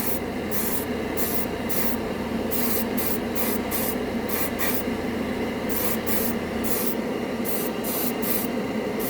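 An airbrush sprays thinned yellow paint over red primer in a continuous loud hiss, broken by short regular pauses as the trigger is released and pressed again, with no voice.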